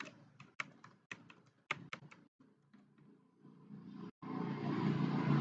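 Quick bursts of typing on a computer keyboard while writing code, crisp clustered taps over about four seconds before a louder steady noise takes over.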